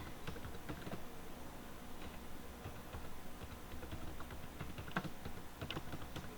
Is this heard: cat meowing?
no